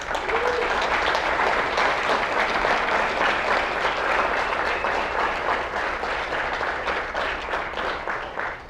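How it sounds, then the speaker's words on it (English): Sustained applause from a large crowd, steady dense clapping that holds for several seconds before gently tapering. "let's give him a big hand of applause for this."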